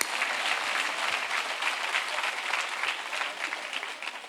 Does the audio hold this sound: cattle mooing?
no